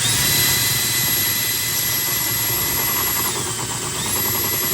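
Compressed air blasts into the AC evaporator of a 2012 Ford F350 while a shop vac runs beneath it. The result is a loud, steady rushing hiss and roar that holds unbroken from start to finish.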